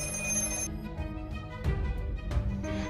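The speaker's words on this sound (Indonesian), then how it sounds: "Namun tiba-tiba telepon berbunyi." An old telephone rings with bright, repeated bell-like tones over background music in a tense scene, the rings rising in bursts near the middle and end, with no speech.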